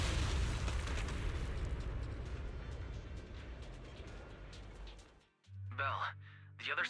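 A broad, rumbling explosion in Zenless Zone Zero rolls out loud at first and fades over several seconds, followed by game voice dialogue.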